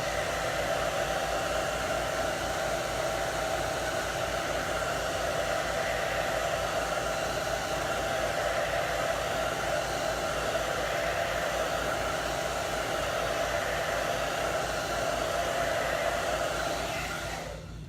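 A hair dryer blows continuously on a chalk paint stencil sign, a steady loud whooshing drone with a constant motor hum that runs unbroken for nearly eighteen seconds before cutting off.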